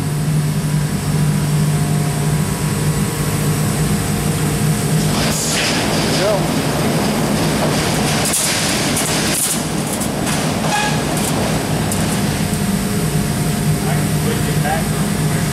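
A Delta machine running through a shuttle change gives a loud, continuous mechanical rumble and hum, with scattered clanks and rattles partway through, under occasional talk.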